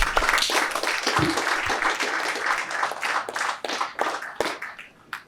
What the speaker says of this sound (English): Please a round of applause for them as they go back to take their seats.